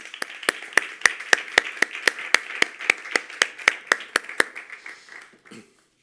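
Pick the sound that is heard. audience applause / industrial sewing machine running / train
audience applause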